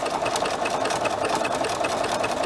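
A sewing machine runs steadily through fabric on a triple zigzag stitch, a close, continuous whirring hum with a fast rhythmic ticking of the needle and no talk.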